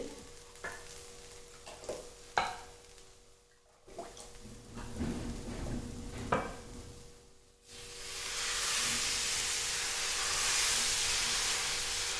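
Rava dosa batter poured onto a very hot griddle: scattered clinks and scraping of utensils give way to a sudden loud, sustained hissing sizzle that fills the last several seconds, no voices.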